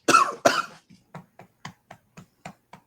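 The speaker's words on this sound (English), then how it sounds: "Now I'm coughing like you." Two loud coughs up close, followed by a string of small, evenly spaced soft hacks or yips fading in a steady rhythm.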